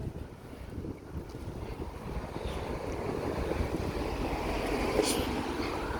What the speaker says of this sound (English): wind's blowing me all over the place